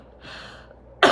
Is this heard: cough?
yes